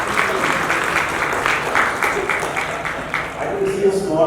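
Sustained applause from an event audience at an inauguration of an educational trust, steady dense clapping filling the room throughout with a slight swell near the end.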